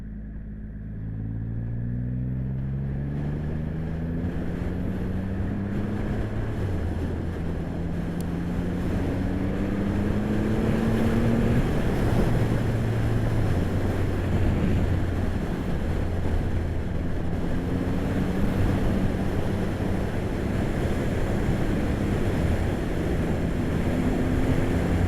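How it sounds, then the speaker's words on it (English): Triumph Rocket 3 GT motorcycle on the move, its engine droning steadily with rising and falling harmonic pitches as gears change, wrapped in constant loud wind rush, no voice. "I also want to hear what just the motor environmental sounds like without me talking and riding."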